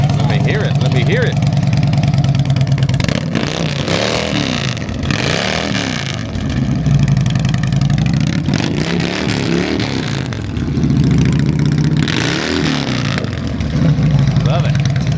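Motorcycle engine revving at an outdoor motorcycle and car show, loud and close with repeated throttle blips rising and falling over a steady idle, while people talk nearby.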